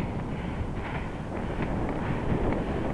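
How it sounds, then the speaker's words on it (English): Steady strong headwind rushing over a cyclist riding on the road, a continuous broadband roar of wind buffeting the microphone that swells slightly louder toward the end, with no speech. "It's very windy. It's a steady breeze at 20 clicks coming right at me."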